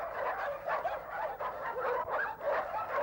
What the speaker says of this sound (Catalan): Gossos de la gran Barcelona.